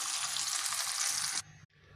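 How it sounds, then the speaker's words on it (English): Saba mackerel pan frying, a loud dense sizzle from the fish in hot oil that holds steady, then drops off suddenly partway through to a quieter, softer crackle. "After about 3 minutes of frying on the skin, and then you can turn it over to fry the other side."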